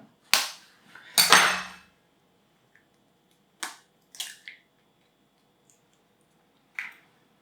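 Eggs cracked and split to separate yolks from whites while making crème pâtissière, heard as a few sharp shell cracks and wet clicks with silent gaps between them, close and clear, no voices.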